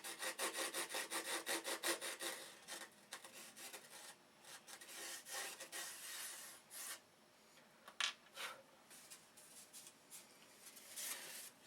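Steady back-and-forth strokes of a hand saw cutting wood for a CLC boat build, fast rhythmic rasping at first, then slower, irregular strokes with short pauses, close and alone.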